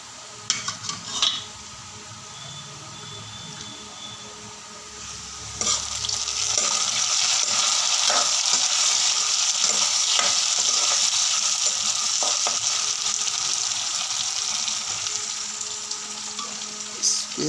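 Fish curry with kalai dal in a pan: a few clinks and scrapes at first, then a loud, steady sizzle of frying begins, with the occasional knock of a stirring utensil against the pot.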